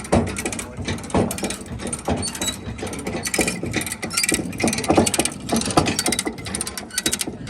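A hand crank raises a gooseneck trailer jack, giving a close, continuous series of rapid ratcheting gear clicks and mechanical clatter that keeps a steady rhythm throughout.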